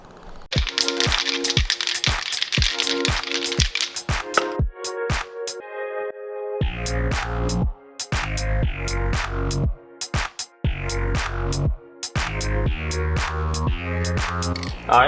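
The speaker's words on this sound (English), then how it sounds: "let's get to shooting the first coat of primer on there." A spray can of primer is shaken with a rapid rattling of the mixing ball, then fired in repeated short hissing bursts onto a brake caliper. The sound is close and loud, with pauses between strokes.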